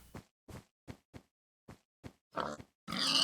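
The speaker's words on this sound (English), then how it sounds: "look at all these pigs suddenly. So many pigs!" Short pig oinks and grunts in a video game, about eight separate calls spaced through a few seconds, getting louder and more squealing at the end.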